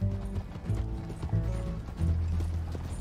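Horse hooves galloping in Red Dead Redemption 2, rapid repeated clip-clop beats with rattling tack and mechanical clatter, close and steady over a low rumble, no talk.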